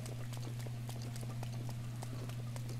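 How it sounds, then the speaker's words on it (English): Horses galloping in the video game Breath of the Wild, a quick run of light clip-clop hoofbeats over a steady low electrical hum, fairly faint, with no talking. "Bunch of horses."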